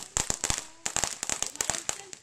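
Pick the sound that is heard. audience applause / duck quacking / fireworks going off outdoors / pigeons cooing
fireworks going off outdoors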